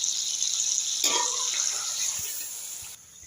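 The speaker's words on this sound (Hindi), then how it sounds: "अब हम इसमें इमली का पानी ऐड कर देंगे" Tamarind water poured into a pot of cooking Hyderabadi biryani, a short splashy liquid pour landing in the pot over a constant background hiss, close and moderately loud, with no speech.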